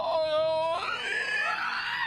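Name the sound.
voice imitating a dragon's screech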